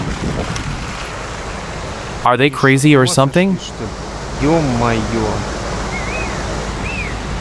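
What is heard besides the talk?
rushing river water at a ford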